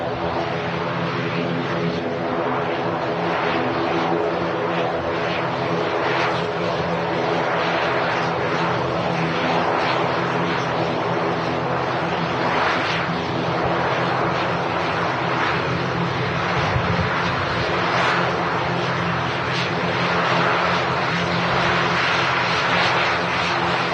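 An Aer Lingus airliner at Manchester Airport produces a loud, sustained jet engine roar with a broad rushing texture, steady and close throughout with no talk.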